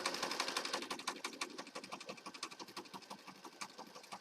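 Sewing machine stitching down junk journal spines, a close, rapid rhythmic clatter of needle strokes that runs steadily for a few seconds.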